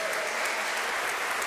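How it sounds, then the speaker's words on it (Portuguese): A congregation claps during a church worship service, a brief burst of dense, steady applause from many hands, even and fairly close with no talking over it. "Dê um forte aplauso ao Senhor."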